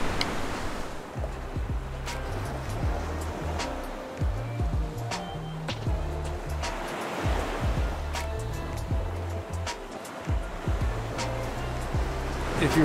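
Ocean waves wash onto Tulum beach on Mexico's Caribbean coast in a steady, continuous roar of surf, with repeated swells rising and falling and no clear break.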